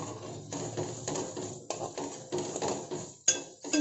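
A spoon scrapes and clinks against a pan while turmeric and spice powder are stirred into cauliflower curry on a low flame, in several short bursts of stirring with one sharper knock near the end.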